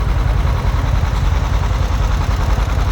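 A John Deere 1010 diesel tractor runs in a threshermen's show parade, its engine a steady, loud, low rumbling drone with a dense throbbing chug that never lets up.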